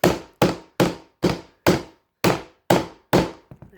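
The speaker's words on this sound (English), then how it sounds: "And now you hammer." A hammer strikes laminate flooring planks to knock them together, eight sharp, evenly spaced thuds up close, then a couple of softer taps at the end, with no talking.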